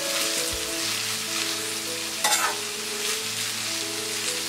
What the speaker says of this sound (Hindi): इसे हम 5 मिनट तक मीडियम फ्लेम में फ्राई करेंगे